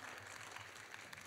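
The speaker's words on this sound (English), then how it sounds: "give yourself a round of applause for being here" Audience applause at a Saturday-morning medical careers event, a dense, steady patter of clapping from a crowd filling the short moment at moderate, even loudness.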